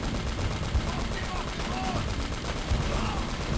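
Rapid, steady gunfire from a shooter in the game Uncharted: Drake's Fortune, a dense stream of loud shots running throughout, with a couple of heavier bursts mixed in.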